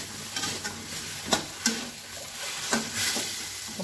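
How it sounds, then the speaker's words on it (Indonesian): Beef skin crackers sizzle and crackle in hot oil while being stirred, a steady frying hiss broken by several sharp pops and spatters, close and moderately loud with no talking. "kemudian kita masukkan nih kerupuk kulitnya"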